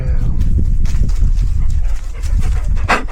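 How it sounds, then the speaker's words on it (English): A Bernedoodle dog on a chilly Essex coastline gives soft whimpers and panting, close by, amid steady wind and outdoor rumble. "My daughter's beautiful Bernie Doodle. She's a great dog."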